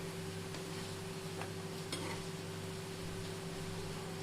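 Badusha sweets deep-frying in medium-hot oil give a steady, dense bubbling hiss throughout, with a few faint scrapes and taps as the pieces are turned over.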